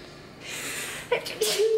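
A breathy inhale builds into a sneeze nearby, followed by a short voiced sound at the end.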